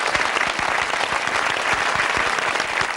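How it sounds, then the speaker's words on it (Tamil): A large studio audience of fishermen on a Tamil TV talk show claps in a loud, steady, unbroken burst of applause throughout. "ரெண்டு பக்கமும் ஒரு பெரிய கைத்தட்டல்கள் வந்திருக்கு"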